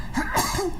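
A single sharp sneeze during a tabletop board game session, close and loud, with a quick breathy intake leading into the burst.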